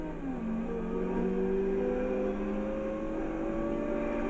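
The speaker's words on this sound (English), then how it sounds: "I'm just starting my engine up." In Forza Horizon 2, a car engine drones and revs steadily, its pitch gliding smoothly upward, loud and continuous with no talking over it.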